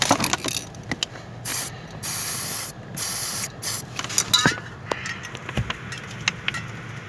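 Aerosol lubricant sprayed onto a squeaking sliding tube part of a Honda car, in several short hissing bursts with small mechanical clicks and rattles between them, close up and fairly quiet.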